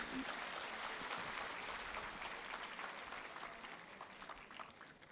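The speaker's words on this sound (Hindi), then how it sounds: "जोरदार तालियां होनी चाहिए।" Audience at a business event applauding loudly, a dense continuous wash of clapping that tapers slightly toward the end.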